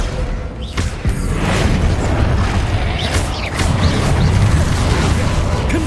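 A blasting spell erupts in the Hogwarts Legacy video game, a loud, dense rumbling burst with a sharp onset that carries over sustained crackling and low booming debris for several seconds.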